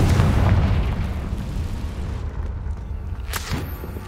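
A Confringo fire spell explodes in the video game Hogwarts Legacy: a loud, deep boom at the start rumbles and slowly fades, followed by a brief crackling burst near the end.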